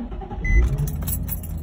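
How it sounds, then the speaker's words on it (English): A Nissan 350Z is started up, with a brief whir and low rumble as the engine catches, close and fairly loud with no talk. "So as soon as I turn the car on"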